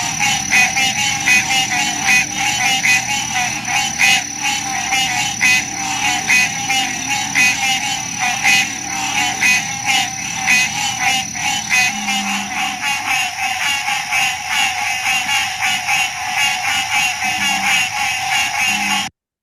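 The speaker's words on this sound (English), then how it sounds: "I think of these guys as summer callers. Green tree frog," Green tree frogs (Hyla cinerea) call in a loud summer chorus, giving rapid repeated nasal honking croaks in a steady pulsing rhythm that overlaps throughout.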